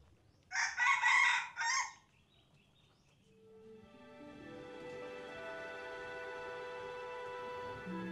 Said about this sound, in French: Alors, je ne vais pas trop les embêter, les coqs.